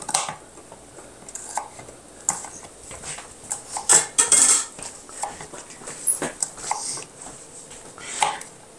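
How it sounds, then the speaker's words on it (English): Onions and meat for sloppy joe pasta sauteing in a pan, with irregular utensil scrapes and clinks against the pan over a low sizzle, close by and without speech. "And saute this all together"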